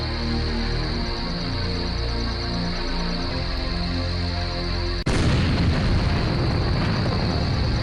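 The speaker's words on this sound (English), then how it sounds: "Yeah, I shot a cow with the mortar." Mortar in the video game Journeyman Project 2 fires: a droning hum breaks into a sudden sharp boom, then a dense roaring rumble of the blast sustains loudly to the end.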